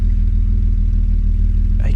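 A car engine with a leaking head gasket runs close by, misfiring almost constantly in a steady, uneven low chug throughout, with a brief higher mechanical note near the end.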